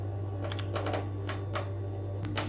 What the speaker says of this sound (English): I'll put my needle inside and then I'll lift the machine foot, and then I'm going to turn to the other side, and then you continue sewing.